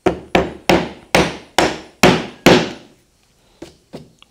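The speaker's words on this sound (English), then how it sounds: "I'm gonna use my chisels and see if I can just make it more squared up." Mallet strikes driving a chisel into wood to square it up, seven sharp, evenly spaced knocks, then a pause and two softer taps, close and loud.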